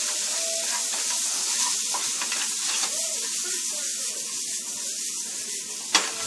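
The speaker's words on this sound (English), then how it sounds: "Now if you can't toss it like I just did, you're more than welcome to just stir it together." Seasoned chicken filling with salt, paprika, cumin and black pepper sizzles steadily in a hot pan, with tossing and scraping swishes across the sizzle and a sharp clank near the end.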